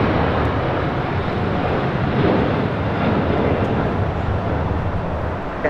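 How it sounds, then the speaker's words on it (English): A LATAM Boeing 787-9 Dreamliner taking off at LAX, heard as a broad, steady roar of jet engines with wind buffeting the microphone, loud and continuous without a break. "This is Latam, Tam 8087, taking off to Sao Paulo, Brazil on a 787-9 Dreamliner."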